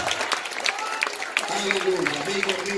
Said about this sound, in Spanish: Aplauda fuerte al Señor Jesucristo.